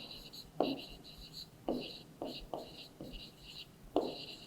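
Chalk or marker writing on a classroom board during a seventh-grade maths lesson, with several distinct scratchy strokes of varying length, close and moderately loud, under a faint background hiss.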